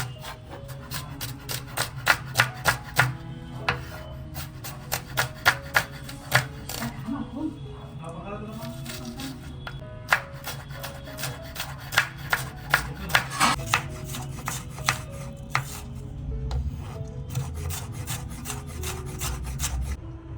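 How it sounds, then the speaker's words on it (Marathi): Onion chopped finely on a board in a home kitchen making a prawn masala, giving bursts of quick, near knife taps against wood with brief pauses between runs, over a steady low background hum. "तर इकडे नेहमीप्रमाणे अति मस्तपैकी बारीक कांदा चिरून देते"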